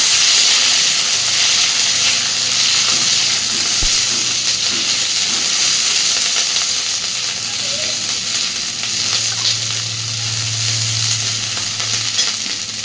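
Capsicum and onion pieces sizzle lightly in a hot pan for a soybean dish, a steady close frying hiss throughout with a soft clink near the start and a low hum later.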